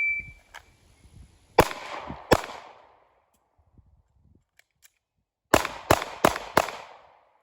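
Handgun shots during a defensive pistol drill: two sharp, loud reports, a quiet pause, then a rapid string of four shots fired close together, each with a short ringing tail.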